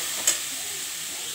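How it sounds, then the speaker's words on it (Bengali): Chopped ash gourd gets stirred with salt and turmeric in a hot pan, a soft continuous sizzle with one quick scrape of the spoon near the start. "এবার নাড়বো।"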